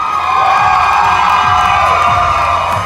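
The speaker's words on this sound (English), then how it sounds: "Got a nice little cheering section right there." Loud, sustained cheering and whooping from an audience at a Miss Alabama and Miss Teen Alabama USA pageant, a dense crowd roar with high shouts layered on top.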